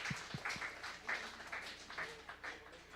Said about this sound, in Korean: 우리 선지자팀 박수 쳐주시죠.